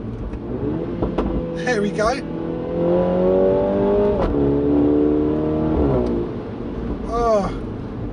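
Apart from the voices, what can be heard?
2019 Mini JCW revving with JCW pro exhaust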